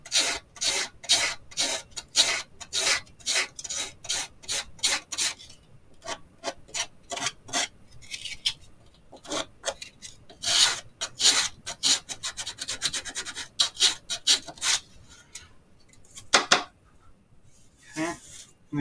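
Sandpaper rubs back and forth on wood on a model house in quick, rhythmic bursts of rasping strokes with short pauses between runs, close and fairly loud throughout.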